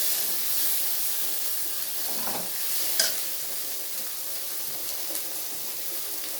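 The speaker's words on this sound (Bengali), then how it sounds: "দিয়ে সমস্ত মশলাগুলো আমি ভালো করে কষিয়ে নেব" Spices and salt fry for a mutton curry, giving a steady close sizzle and hiss with occasional spoon scrapes and stirring knocks, no voices over it.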